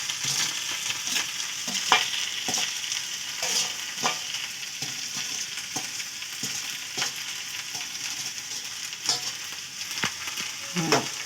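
Noodles fry in a hot pan with a steady bright sizzle, while a spoon stirs them in repeated scraping, clattering strokes, close and continuous throughout.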